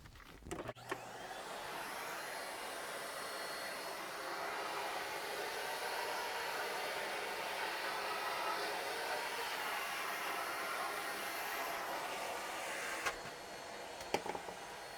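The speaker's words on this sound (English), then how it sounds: "how do you vacuum your layout?" A vacuum cleaner runs steadily over a model railroad layout with flocked wire-limb scenery. It makes a loud, continuous whooshing roar that starts and stops with a few clicks and clunks, and no one speaks.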